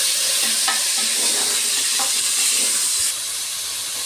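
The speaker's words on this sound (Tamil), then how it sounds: "பாருங்கள், வெங்காயம் வதங்கிட்டே இருக்குது." Onions sautéing in a little oil in a cooker while coconut milk rice is being made, giving a steady close sizzle and hiss with a few soft stirring scrapes throughout.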